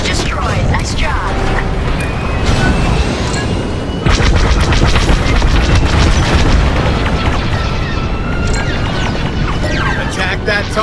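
A dish blows apart in Star Wars Squadrons with a loud, booming explosion and crackling debris that rolls on for several seconds under a steady engine roar and radio voices.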